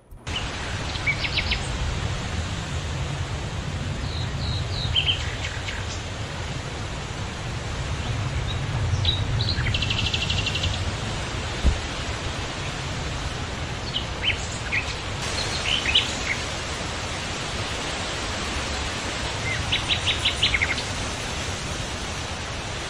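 Scattered bird chirps and short trills ring out over a constant broadband hiss, the calls brief and spread throughout.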